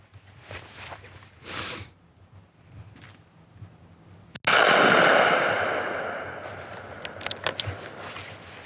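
A single sharp, loud rifle shot from a Thompson Center Encore fired outdoors, its blast ringing out and decaying over a few seconds amid faint background rustling and quiet breathing.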